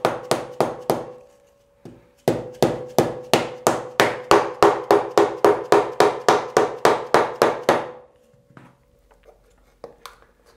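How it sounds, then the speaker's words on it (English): A soft mallet taps on a Triumph Tiger 800 motorcycle engine cover to free it, a few blows and then a long run of about twenty evenly spaced, close, sharp knocks before a few faint scattered taps. "You might need to give it a bit of a tap to get the cover off. Let's use a soft mallet."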